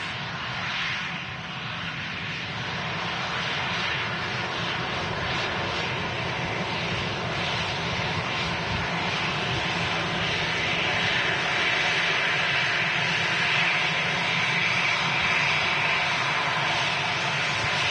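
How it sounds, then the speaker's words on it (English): EasyJet Airbus A320 jet airliner at Manchester Airport, a steady broad engine roar and hiss that swells slightly and holds for nearly twenty seconds, distant but continuous, with no talking. "Whiskey Delta on the reg of this EasyJet A320 with the fence wiglets."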